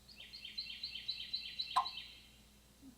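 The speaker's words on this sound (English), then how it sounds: "Just those clucks, under the breath yelps, single note yelp." A wild turkey gives a quick run of soft, rhythmic clucks and quiet yelps, close and fairly faint, with a single sharper note near the end before the calling fades.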